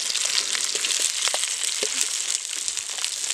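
Tomatoes frying in a hot pan with garlic and small onions for a crab curry, a dense steady sizzle with small crackles and pops, close and without talk.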